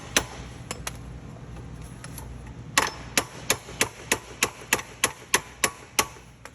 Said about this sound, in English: grab a hammer and just hammer it in